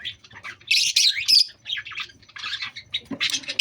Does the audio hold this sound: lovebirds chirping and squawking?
yes